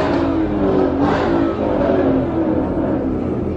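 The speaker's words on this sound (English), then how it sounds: "they did that little burnout" A Ford Mustang does a burnout at a Dallas car meet, its engine revving hard and steady at close range, with a rough, continuous roar throughout.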